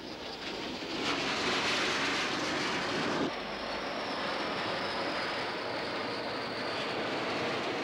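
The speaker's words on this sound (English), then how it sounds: "In the first wave, French-built Mystère fighter bombers." A French-built Mystère fighter bomber roars past in flight, a loud, broad jet rush that swells after the first second, holds strong, then settles into a steady high whine and rumble, with no voices.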